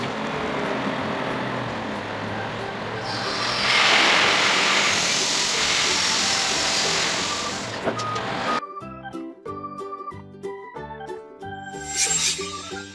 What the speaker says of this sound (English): Wheel loader, a wheeled excavator used for digging and moving construction materials.